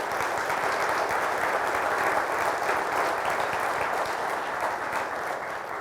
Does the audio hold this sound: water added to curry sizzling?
no